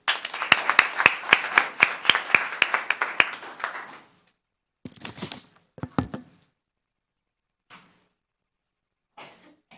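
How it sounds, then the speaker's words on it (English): Audience applause at a Los Gatos town council meeting, a burst of steady clapping for about four seconds that stops abruptly, followed by a few scattered short bumps and rustles in a quiet room. "Another round of applause."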